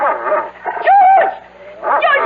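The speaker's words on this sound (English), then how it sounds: "There's a dog on our bed! A horrible big dog!" A big dog in a radio drama whimpers and yips loudly in close, whining bursts with rising and falling tones, bedroom setting, no voices over it.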